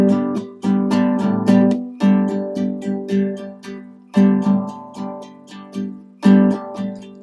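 Guitar or ukulele strummed in a repeating pattern of downstrokes and upstrokes with the second upstroke left out, giving short bursts of bright chords in a steady loping rhythm, played alone and close.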